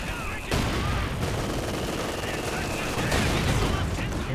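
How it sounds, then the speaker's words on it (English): A machine gun in the strategy game Company of Heroes 2 fires dense, continuous bursts amid a wider battle din, loud and steady throughout, while a commentator talks over the fighting. "Position for that machine gun."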